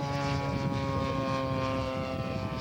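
A propeller-driven scale model airplane drones steadily overhead as it comes down to land in gusty wind at a scale aircraft show, its buzzing engine tone held at moderate, distant loudness.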